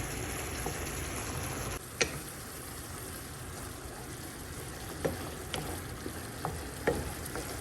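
Garlic, red pepper and cumin sizzling in olive oil in a pan, a steady close frying hiss with occasional sharp pops and ticks, heard alone without talk.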